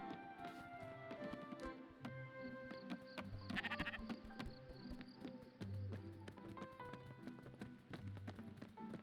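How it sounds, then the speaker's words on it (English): Sheep bleats in Spiritfarer mixed into busy game music, with light hoof-like clatter and scattered effects; the bleating is moderately loud and brief, set against a continuous layered soundtrack. "I've recruited a sheep."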